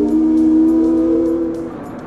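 A loud steam whistle on the steamship Nobska blows in one long sustained tone, rich and steady, then trails off gradually near the end.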